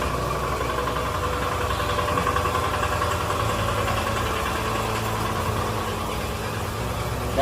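A petrol engine on an eco farming machine runs at a steady idle, a close, even mechanical drone with a faint rattling vibration that holds throughout.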